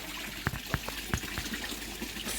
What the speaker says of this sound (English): on the water blade is up and running.